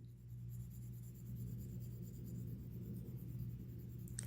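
Pencil shading softly across paper, a faint, steady scratchy rustle over a low constant hum, with no voices.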